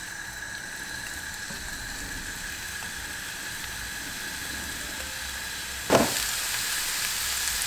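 Spinach sizzles in a pan with olive oil and chili, a steady close frying crackle that flares into a sharper burst near the end.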